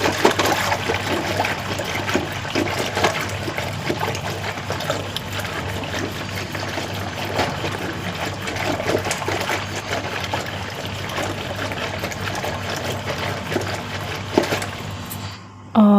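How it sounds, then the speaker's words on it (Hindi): Cream skimmed from milk is churned by hand into butter in the traditional desi way, giving a steady, continuous sloshing and swishing of liquid that runs unbroken for the whole stretch, with no talking. "और यहाँ पे मथ रही हूँ मट्ठा, मतलब मलाई जो था तो उसको मथ रही हूँ।"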